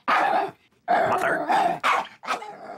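A dog barks and growls in a comedy film scene, several loud close outbursts in quick succession with short gaps, harsh and agitated.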